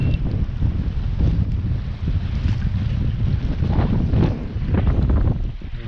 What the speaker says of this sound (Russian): Вот и ветер сегодня, ветродуй.